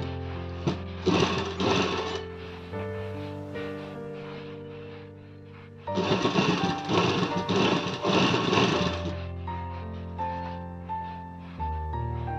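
Sewing machine stitching a net fabric pop sleeve, two long buzzing runs of rapid stitching close by, separated by a quieter gap, with no talking.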